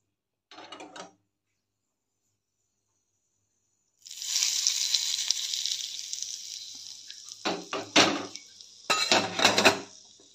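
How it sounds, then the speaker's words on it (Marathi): Hot ghee tempering with cumin, mustard seeds and asafoetida poured onto guava chutney, a sudden loud sizzle and crackle after silence, followed by clinks of a pan and spoon. "आता हे तडका आपण पेरूच्या चटणीवर घालूया।"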